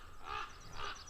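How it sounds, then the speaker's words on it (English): Ravens give two hoarse, croaking calls about half a second apart, heard outdoors at moderate distance over a faint background hum. "there's the ravens there."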